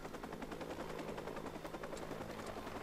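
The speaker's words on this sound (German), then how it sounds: "Der Heli, ist eh klar." Helicopter in the video game Watch Dogs, its rotor chop a steady, dense thrum that runs loud and continuous throughout, mixed with sharp crackling bursts like gunfire.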